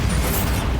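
A Bombarda spell blast in Hogwarts Legacy, a dense, loud rumbling burst that fills the short moment with low booming energy and crackling noise, with no talk over it.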